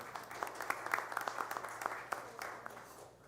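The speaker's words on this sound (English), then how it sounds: "Let's clap for them." Scattered audience clapping at a city council meeting, a light, uneven patter of hands at moderate distance that thins out toward the end.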